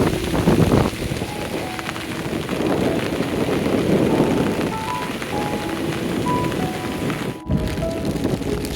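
Heavy monsoon rain pours at a beach at Taalsari, a loud dense hiss of drops beating down without a break, with wind buffeting the microphone and a brief dip in the noise near the end.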